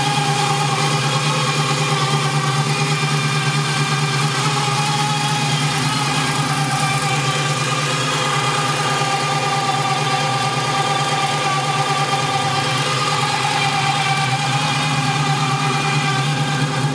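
A 1969 Camaro Z28 with a 350 V8, long tube headers and a gear drive idles steadily up close, loud and even with a lumpy low rumble and the gear drive's whine running throughout.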